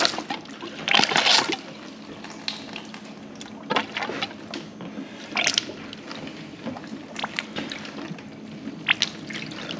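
Water from a pump on a portable, pressurized hand-washing station comes in several bursts of splashing and dribbling into a basin, irregular spurts separated by quieter trickles and drips.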